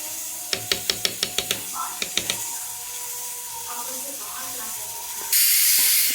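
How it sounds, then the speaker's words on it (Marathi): Homemade ghee hits a hot pan of Sindhi-style spinach and bursts into a loud, steady hiss near the end, after a run of quick, sharp utensil taps and clicks. "हे गावरान तूप आहे ते टाकूया. दोन चमचे टाकले."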